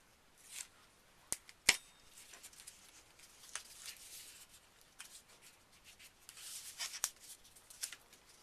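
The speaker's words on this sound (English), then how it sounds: "And I start peeling my tape off." Tape peeling off a paper matchbook album during a Halloween craft gives faint, close crackles and soft scratchy rips, with a few sharper ticks scattered through quiet handling.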